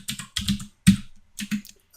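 Quick bursts of keystrokes on a computer keyboard while a password is entered, four short clusters of close, crisp clicks over two seconds with brief pauses between.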